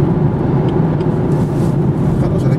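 A 2018 BMW X1 20i engine under acceleration, heard as a loud, steady, low droning hum with road noise and no talking.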